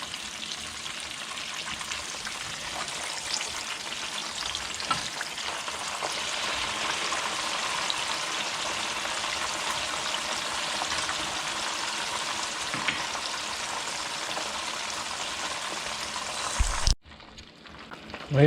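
Crispy pata, a pork leg, deep-frying in hot oil in a pot, a loud steady bubbling sizzle that runs on without a break before cutting off abruptly near the end.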